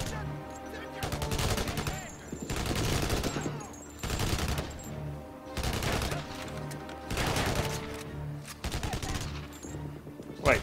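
Guns fire in the Kinect video game Blackwater, with loud repeated bursts of automatic fire and rapid volleys that surge and pause in waves for about ten seconds.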